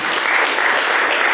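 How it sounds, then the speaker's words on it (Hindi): Audience applause welcoming a Juna Akhara saint of Himachal origin to the stage, a dense steady wash of many clapping hands, loud and close, with no pauses across the short burst. "तो जोरदार तालियों से स्वागत करें।"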